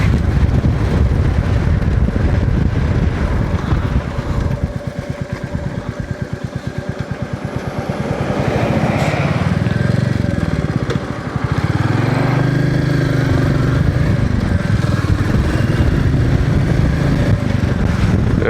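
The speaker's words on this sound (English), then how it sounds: "It really is a perfect bike for this sort of thing. It's got more than enough power" A Royal Enfield Meteor motorcycle engine drones steadily while riding on an island road on the Isle of Mull, Scotland, with wind buffeting the microphone throughout and no talk.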